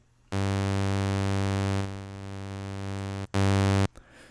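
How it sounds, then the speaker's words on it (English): A steady additive-synthesis tone built from stacked sine waves, buzzy with many harmonics, holds for about three seconds, dips slightly in level, breaks briefly, then returns for a short louder stretch. "we got each individual sine wave right here"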